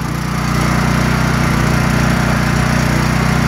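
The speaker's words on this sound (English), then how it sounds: "I really like this generator so far." A 9000W gasoline generator runs steadily at close range, its engine holding a loud, even drone with a strong low hum and broadband mechanical noise throughout, with no voices.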